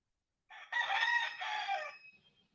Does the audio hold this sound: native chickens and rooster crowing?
yes